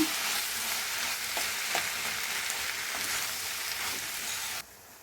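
Leafy greens (soppu) tossed with fried onion in a hot pan, a loud continuous sizzle with scraping stir strokes throughout, cutting off abruptly near the end.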